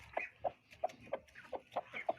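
A hungry farmyard chicken clucks steadily while being fed, about seven short, evenly spaced clucks roughly every third of a second, close and moderately loud with no one talking.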